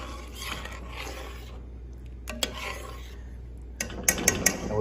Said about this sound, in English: Just stir that around.